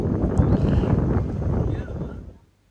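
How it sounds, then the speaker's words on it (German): Wind buffets the microphone in a low, rumbling roar at the seaside cove of Cala Sant Vicenç, Mallorca, gusting steadily and then dropping away abruptly near the end. "Hier sehen wir, was wir für Wind haben. Ich hoffe, es ist noch zu ertragen am Mikro."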